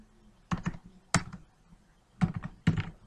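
Computer keyboard keys pressed in four quick, sharp bursts of clicky typing, close and fairly loud against a quiet background, with one key reportedly sticking.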